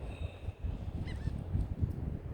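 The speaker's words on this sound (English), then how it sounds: "We got lots of birds talking to this morning." Outdoors in the morning, birds give faint goose-like honks in the distance over a steady low rumble, with a few brief calls rising from the background.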